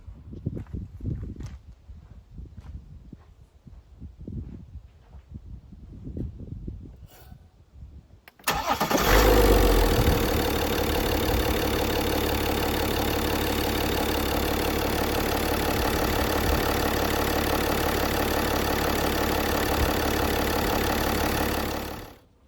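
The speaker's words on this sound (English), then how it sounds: "we can try and start the engine." A BMW X5 with the N57 engine cranks and fires after a cylinder head cover gasket replacement and coolant bleeding, then settles into a loud, steady idle that runs for about fourteen seconds before cutting off.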